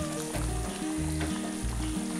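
A thick egg paneer butter masala gravy simmers in a pan with a soft, steady sizzle and bubbling, close and fairly quiet, with faint music underneath and no talking.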